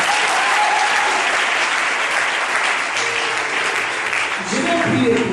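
A church congregation claps and cheers acclaiming Jesus during a prayer service, steady loud applause filling the whole stretch, with a voice speaking over it near the end.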